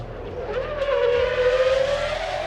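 A BMW race car spins off the track at Imola during qualifying, its engine note rising and holding in a strained, wavering whine mixed with tyre noise, heard at a distance without commentary.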